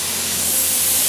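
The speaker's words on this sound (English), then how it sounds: "it's just a little touch-up gun." A small touch-up spray gun sprays clear coat onto a car, a loud, continuous, steady hiss of atomized paint close by with no voices.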